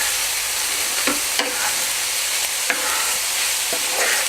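Onions sizzle steadily in a hot pan with garlic powder, loud and close, while a utensil stirs them in several distinct scrapes and knocks against the pan.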